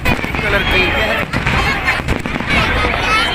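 Fireworks burst at a New Year celebration outdoors, a dense continuous crackle and rumble of explosions mixed with crowd noise and people talking throughout.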